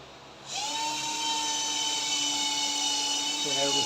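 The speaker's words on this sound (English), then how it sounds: "Just put a couple of screws at the top." A power drill whines steadily as it drives screws into cement board on a bedroom wall of a cheap house being built in the Philippines. The close, sustained whine starts abruptly and runs without a break to the end.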